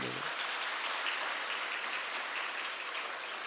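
A church congregation applauds in a sustained, even burst of clapping that fills the room for a few seconds.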